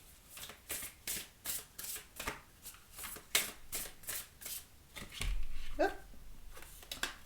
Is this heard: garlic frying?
no